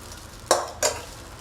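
Two quick scraping strokes of a spoon stirring poha in a pan on the stove, close and fairly loud against a quiet kitchen hum.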